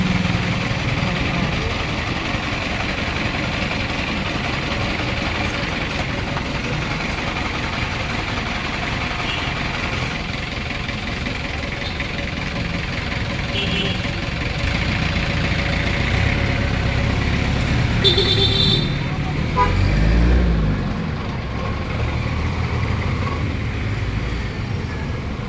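Vehicles pass along a road with steady engine rumble and traffic noise, one passing louder and closer near the end, with a person talking over it.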